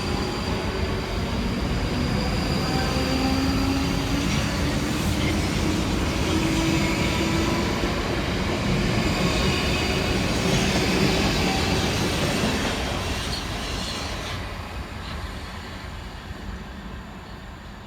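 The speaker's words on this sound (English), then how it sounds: "the final train of this compilation will be 458409 and 458417, working the 1649 South Western Railway service from Reading through to London Waterloo" Two South Western Railway units, 458409 and 458417, pass on the line between Reading and London Waterloo: a loud, steady rumble with rail clatter and faint wheel squeal that holds close, then slowly fades in the final seconds.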